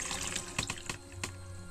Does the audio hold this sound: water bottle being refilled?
yes